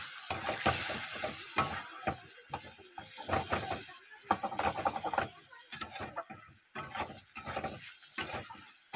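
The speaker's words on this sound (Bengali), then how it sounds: "অল্প করে দেবো নুন, ভালো করে এবার ভেজে নেবো।" Food fries in a pan with salt added, mostly fish oil, with a steady faint sizzle under a busy series of sharp scraping stirs and clatters of a spatula against the pan.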